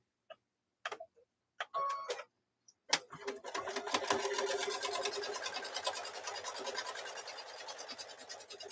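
A sewing machine stitches quilt pieces with a 1/4-inch seam, starting after a few scattered clicks and handling noises, then running in a steady, fast mechanical whir close by.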